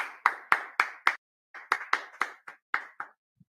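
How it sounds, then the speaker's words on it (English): A few people clapping in a loose, uneven rhythm, about a dozen sharp claps in two bursts with a short pause between, close and clear, no talking. "Let's go ahead and clap it up."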